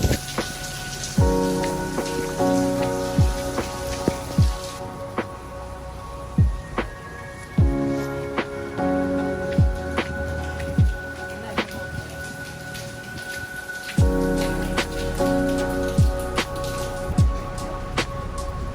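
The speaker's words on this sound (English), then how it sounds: "it's really coming down with rain" Heavy rain pours down on a London street as a loud, constant hiss, with repeated sharp drips or knocks landing at irregular intervals and no talking.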